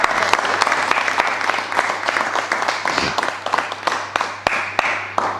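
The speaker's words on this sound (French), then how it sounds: "On peut l'applaudir." A French panel audience claps for a speaker, a steady patter of many hands with some sharper individual claps standing out over a low electrical hum.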